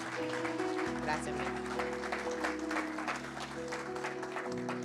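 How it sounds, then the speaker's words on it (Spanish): Church congregation applause honoring mothers at a service, brisk clapping layered over sustained keyboard chords, the music and hands blending at moderate volume throughout. "Si me les pueden dar un fuerte aplauso, por favor."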